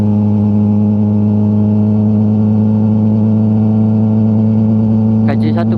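A Yamaha R6 motorcycle being ridden holds a loud, steady mid-pitched engine drone at constant revs, with a brief burst of other noise near the end.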